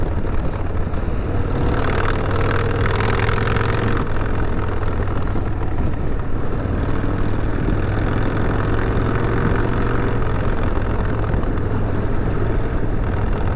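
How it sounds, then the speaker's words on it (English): A motorcycle rides a washboard dirt road, its engine droning loud and constant while the bike rattles and thrums over the ridges without a break. "this bike does pretty good. But I mean, riding on that washboard just ain't the best"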